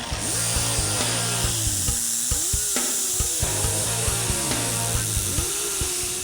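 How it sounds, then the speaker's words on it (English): An air grinder rough-shapes cured epoxy filler on a Fox Body Mustang, a harsh continuous whirring and rasping with repeated brief pitch swoops and clicks as the tool is worked across the surface. "we can rough shape it with an air grinder."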